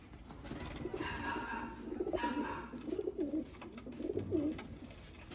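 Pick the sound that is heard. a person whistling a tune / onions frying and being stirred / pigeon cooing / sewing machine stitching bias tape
pigeon cooing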